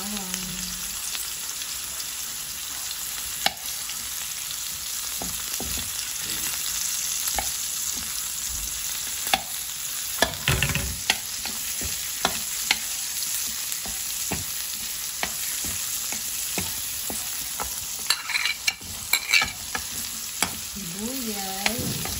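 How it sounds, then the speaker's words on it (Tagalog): Garlic and onion sautéing in a pan for liver steak, a steady crackling sizzle throughout with frequent spatula taps and scrapes, busier toward the end. "dito na rin po tayo mag-igisa ng bawang at sibuyas"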